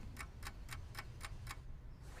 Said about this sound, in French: On met un réveil matin qui fait tic-tac derrière son panier.